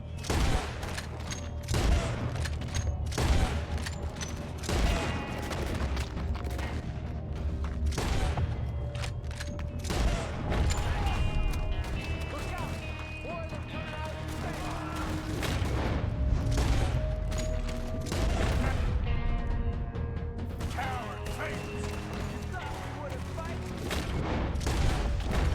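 Gunfire in the video game Red Dead Redemption 2, PC gameplay: steady, dense volleys of shots run through the whole stretch over a busy game soundscape with music, with a player talking now and then.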